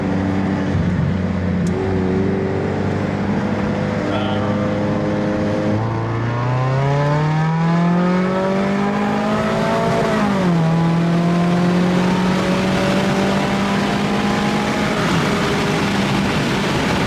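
A Ford Mustang EcoBoost running an E30 tune pulls hard in second gear from low speed, the engine droning loud and steady and then rising in pitch with a brief dip as it revs higher.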